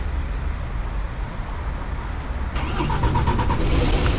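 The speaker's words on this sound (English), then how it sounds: "So let's start the bus up" Midway through, a coach engine in the Fernbus simulator cranks with a quick rhythmic stutter and catches into a steady idle rumble, over a low background drone.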